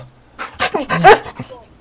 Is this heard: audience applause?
no